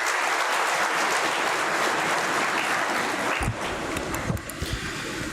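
Loud, sustained applause from an orientation audience of new undergraduate students at NIT Warangal, welcoming the academic dean, a dense even wash of clapping that thins and breaks up near the end.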